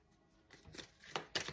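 Tarot cards are laid down and covered on a table for a reading, a few soft, quick card slaps and brushes that grow slightly louder toward the end, close and quiet with no talking.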